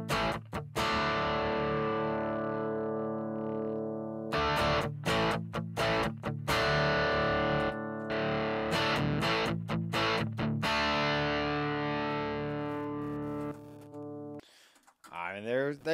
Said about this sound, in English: here's the DC distort.